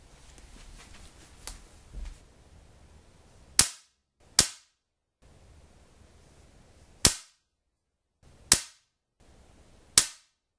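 A CZ 200S .177 air rifle fires five sharp, close cracks at uneven intervals, each crisp report decaying quickly over a quiet background.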